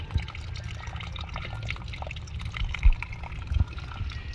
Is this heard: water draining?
yes